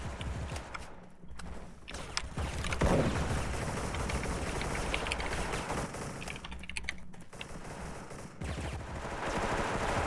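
Rapid bursts of gunfire from a sniper in the online shooter game Special Force, dense and continuous for most of the clip with brief gaps.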